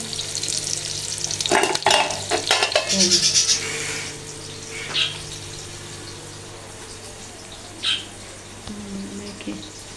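Onions fry in a pot on a high flame with a continuous close sizzle, busy stirring clatter early, then quieter frying broken by occasional spoon knocks.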